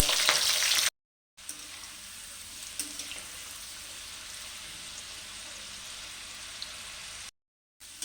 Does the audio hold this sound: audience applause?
no